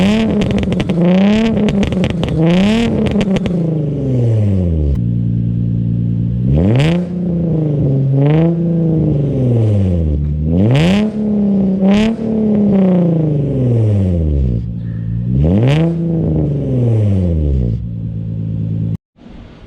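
Infiniti G35 fitted with a single eBay exhaust, revved repeatedly in loud, close bursts, each rise and fall of engine pitch following the last in a steady rhythm, with no talk.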